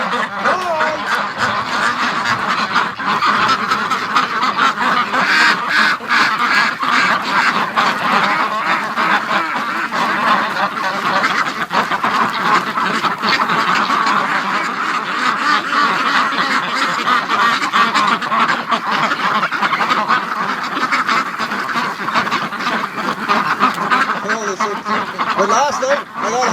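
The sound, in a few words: flock of ducks quacking and geese honking in pen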